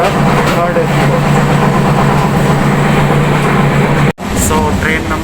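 Onboard an LHB coach of the Indore–Jabalpur overnight superfast express, a steady loud rumble of rolling wheels and carriage noise runs throughout with a faint rhythmic clatter, cut briefly near the end, while a voice talks faintly in the background.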